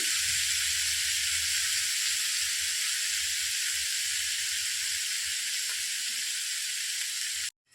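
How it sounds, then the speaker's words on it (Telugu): Raw banana slices fry in oil with a loud, steady hiss and sizzle that holds evenly and close, then cuts off abruptly just before the end. "మొత్తం ముక్కలన్నీ వేసేసుకొని వేయించుకోవాలి"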